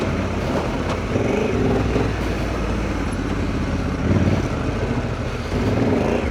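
A Honda Africa Twin motorcycle rides off road, its engine droning steadily and close, with slight surges as the throttle opens and the rear wheel breaks grip on loose ground.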